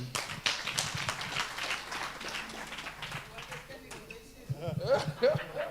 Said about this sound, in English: Let's please clap for Mr. Keza.